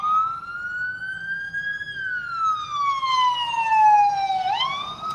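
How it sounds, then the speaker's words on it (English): A passing ambulance siren heard from a car on an early Sunday morning delivery drive, loud and close, with a wailing tone that rises and falls before a sharp upward yelp near the end. "ambulance coming"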